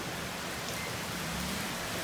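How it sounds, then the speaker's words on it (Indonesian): Rain falling steadily at a home in Padang, a continuous soft hiss of drops with no breaks, fairly quiet and alone with no voices. "Ini lagi hujan, hujan."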